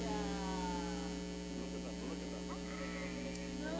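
Several sheep bleat in wavering calls answering their shepherd, moderately close, over a steady electrical hum with a voice in the background.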